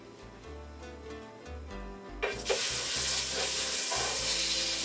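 Pork chops dropped into a hot pan for browning, starting with quiet clinks and background music before a loud, steady hiss of frying bursts in and continues.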